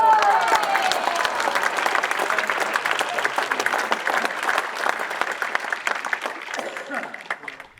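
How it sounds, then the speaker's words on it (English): Sustained applause from spectators at a lawn bowls match in the Falklands, a dense, steady clatter of many clapping hands lasting throughout, close and loud, tapering slightly toward the end. "Chris hit the jack to a huge round of applause."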